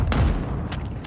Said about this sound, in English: You've got a mortar incoming, east side.